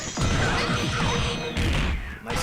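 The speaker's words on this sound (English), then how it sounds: "That's a big time hammer slam there" A heavy hammer slam lands in a Mugen fighting game, a loud crashing impact with a shattering burst followed by a second forceful hit, dense and close throughout.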